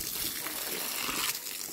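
Water rushes from a garden hose in a vegetable plot, a steady, close, broadband gush lasting under two seconds.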